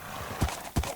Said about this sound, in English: I've been breeding horses